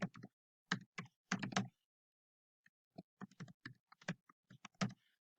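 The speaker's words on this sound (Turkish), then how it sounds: "Buraya mail adresimi yazıyorum." Someone types an email address on a computer keyboard, producing crisp, close keystrokes in quick clusters, a pause of about a second, then another run of taps in a quiet room.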